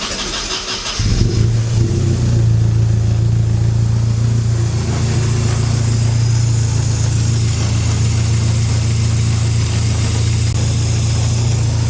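A turbocharged Datsun wagon engine fires up and settles into a steady, loud idle close by, its low drone holding evenly with a hissy upper layer for the rest of the clip.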